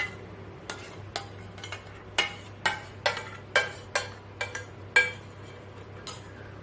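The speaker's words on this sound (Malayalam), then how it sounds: "ഇത് നന്നായിട്ട് മിക്സ് ചെയ്തെടുക്കാം." A spoon stirs dates into cake batter in a mixing bowl, giving about a dozen distinct clinks and scrapes in an uneven rhythm over a quiet background hum.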